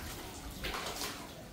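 Water poured while a cat is bathed, a steady close rushing wash with no voices.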